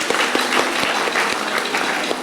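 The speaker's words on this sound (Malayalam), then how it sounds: "ഒരു നല്ല കൈയടി കൊടുക്കണം ഈ യൂത്തിന്" Audience applause for the BrisKA youth team at a Ponnonam Onam gathering: steady, dense clapping from a crowd, fairly loud and continuous throughout with no voices over it.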